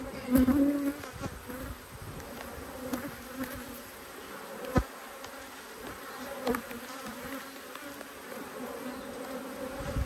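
Honey bees, including Italian bees, buzzing continuously around, some passing close by, with a steady droning hum and no talking.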